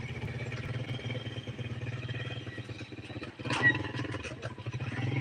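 Motorcycle carrying a load of wood on a village road in the morning, a steady low engine drone running throughout with a brief louder burst partway through, heard alone without talk.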